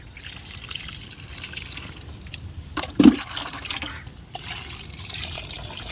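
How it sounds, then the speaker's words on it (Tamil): Water poured from a container onto newly transplanted seedlings in a garden bed, a soft continuous trickle and splash with a brief louder gush midway, close by and steady. "இப்போ நட்டதுக்கு தண்ணி ஊற்றிக்கலாம்."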